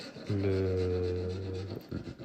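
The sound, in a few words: filing the cut edge of a van window opening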